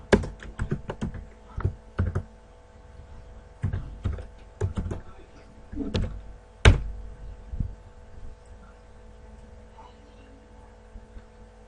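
Typing in the QBasic environment on a computer keyboard: a quick burst of sharp key clicks, then scattered single taps and a louder thunk, fading into quiet near the end.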